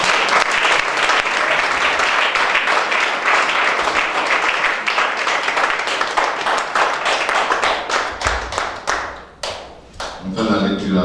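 A church congregation at a seminar applauds loudly and steadily for about nine seconds, the clapping thinning toward the end as voices break through.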